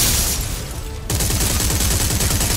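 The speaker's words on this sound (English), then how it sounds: "they're shooting at me" Video game gunfire in Dead Space 3, a dense, loud burst of rapid automatic shots that pauses briefly and then resumes in a steady rattling stream, filling the whole clip.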